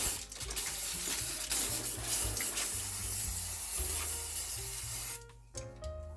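A shaken aerosol can sprays liquid cocoa butter over a White Rabbit candy cheesecake in a steady, loud, close hiss lasting about five seconds before cutting off, followed by faint handling noise.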